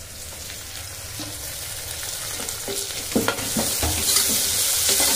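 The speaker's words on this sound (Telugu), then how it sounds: "పుదీనాను ఇలా 1 నిమిషం పాటు ఫ్రై చేసుకొని" Ginger, garlic and mint leaves fry in a pan, a close steady sizzle that swells slightly toward the end, with a few brief scrapes of stirring.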